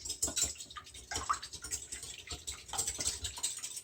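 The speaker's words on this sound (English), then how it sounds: "we're going to start with our 2 eggs, and I'm going to whisk them." Two eggs being beaten with a whisk in a bowl, a quiet, rapid series of light clicking and scraping strokes in an uneven rhythm, close and faint, with no voices.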